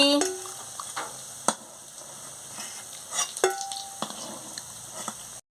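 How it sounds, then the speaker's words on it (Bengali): Soybean fritters frying in hot oil, with a soft continuous sizzle broken by sharp clinks and scrapes as pieces are lifted out one by one, close and moderately loud. "এবারে লাল লাল করে ভাজা হয়ে গেছে, আমি এক এক করে তুলে নিচ্ছি।"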